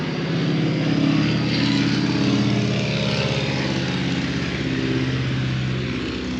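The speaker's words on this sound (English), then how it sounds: "Ooh, big round engine." A big radial aircraft engine drones steadily and loudly throughout, a rough, throbbing roar with no pauses and no voices.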